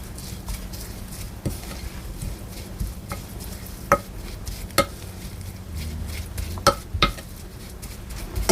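Seasoned radish salad being mixed evenly in a bowl: a continuous soft wet stirring rustle with several sharp clinks of a utensil striking the dish, close and clear.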